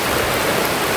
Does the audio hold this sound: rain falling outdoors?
yes